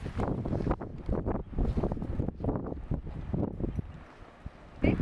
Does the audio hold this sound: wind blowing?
yes